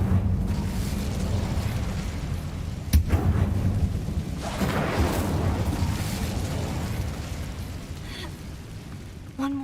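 Incendio fire spell cast in Hogwarts Legacy, a sustained roaring whoosh of flame with a sharp pop partway through, loud and close over continuous game ambience.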